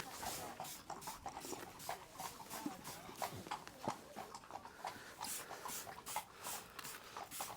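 Several horses clop along a hard road, hooves striking in a busy overlapping rhythm, moderately close and fairly quiet, with no talking.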